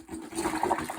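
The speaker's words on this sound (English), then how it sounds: "I'm going to pour it into each bottle evenly" Ginger, garlic, turmeric and pineapple juice pours into bottles with a steady, close liquid splashing and trickling for about a second, with no voices.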